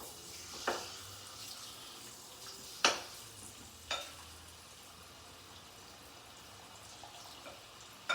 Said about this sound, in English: we've got sizzle now. We've got sizzle.